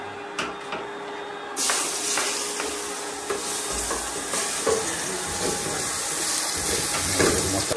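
Rice cooking in a pot on a stove, a steady broadband sizzling hiss with stirring scrapes, loud and close, running continuously without speech.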